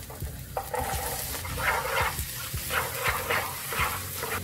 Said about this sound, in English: Once the frying pan is heated up, we can throw in our garlic and our red onions.